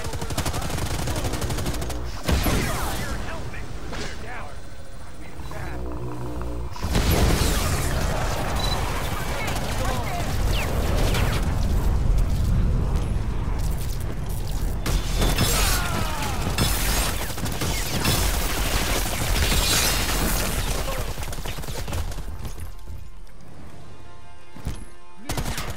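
Sustained gunfire and machine-gun bursts fill a chaotic battle in the Predator video game, loud and near for most of the stretch, mixed with crashes and mechanical clatter while voices call out over it.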